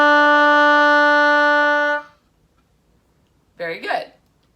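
An oboe holds a low D with all six fingers down: one steady, bright reedy tone sustained for about two seconds, then silence before a voice speaks briefly.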